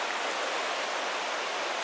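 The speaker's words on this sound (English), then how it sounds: "Back at the waterfall area back there." A waterfall and river on the Johnston Canyon trail in Banff National Park pour in a dense, steady hiss of rushing water, close and unbroken with no voices.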